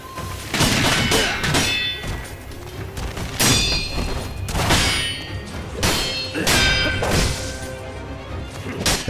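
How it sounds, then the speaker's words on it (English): In the video game Sekiro, perfect parries ring out as sharp, resonant clangs of steel on steel, struck repeatedly in a quick rhythm with metallic ringing tails that overlap. "That sharp, resonant clang of steel on steel isn't just a sound effect."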